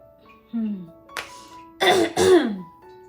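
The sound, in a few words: throat clearing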